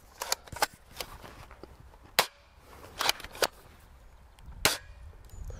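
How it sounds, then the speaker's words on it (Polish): An AGM 003 airsoft replica fires BBs with a few loud, sharp snaps spread irregularly across the stretch, and quieter shuffling and handling noises fill the gaps between shots. "strzeliło mi teraz trzema kulkami naraz"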